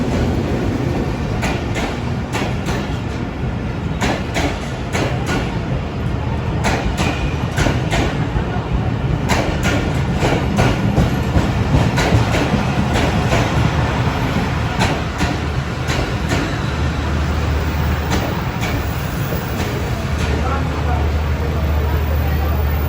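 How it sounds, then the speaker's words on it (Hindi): A train pulls into Drigh Road railway station with a continuous loud rumble and clattering, and repeated sharp rail clicks and knocks. A constant hum runs underneath, and voices murmur in the background. "तो चलें देखते हैं अब हमारी ट्रेन कब तक आती है ड्रिग रोड रेलवे स्टेशन पर।"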